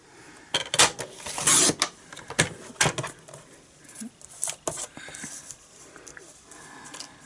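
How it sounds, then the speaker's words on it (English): A paper trimmer cuts out a Valentine card sentiment, giving a run of quiet, uneven scraping and slicing strokes with small taps and rustles close by, no talking. "I'm just going to cut out with our trimmer"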